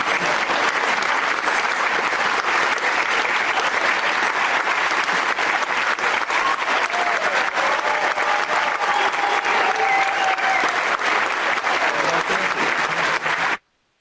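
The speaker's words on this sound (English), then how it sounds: "It felt like he had more, but he just took the applause." A theatre audience applauding a Chinese linking rings magic trick, with loud, sustained clapping that holds steady for about thirteen seconds and then cuts off abruptly.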